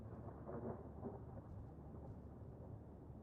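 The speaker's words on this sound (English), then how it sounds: "you can hear the thunder crackle" Thunder rolls from a tornado-warned rotating supercell during an Iowa storm chase, a low, steady rumble with faint crackling, fairly distant and continuous with no one talking.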